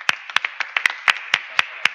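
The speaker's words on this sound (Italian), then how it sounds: "Quindi facciamoci un applauso." A small audience at an inaugural technology conference claps sparsely, giving about a dozen separate, sharp hand claps in an uneven rhythm against near silence.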